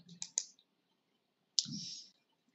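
A computer mouse gives a few quick, close clicks followed by a brief pause, then another sharp click with a short rustling tail in a quiet room.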